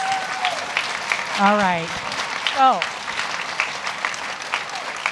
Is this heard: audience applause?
yes